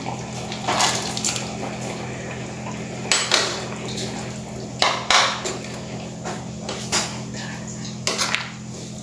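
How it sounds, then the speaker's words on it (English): Boiled cowpeas tipped into a pot of Goan salted pork coconut curry with potatoes, giving several clanking metal pot-and-spoon knocks and brief splashy scrapes spaced over a low steady hum. "Now we'll add the boiled cowpeas."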